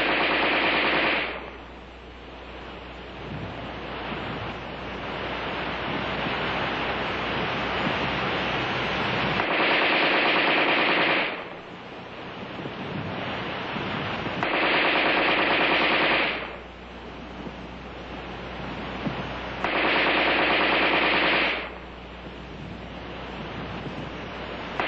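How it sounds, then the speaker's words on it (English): Armalite AR-10 rifle firing rapid automatic bursts from preloaded magazines: four long, loud bursts of sustained gunfire separated by short pauses and magazine changes, with a steady background hiss between them. "The preceding demonstration of rapid fire illustrated the use of preloaded magazines."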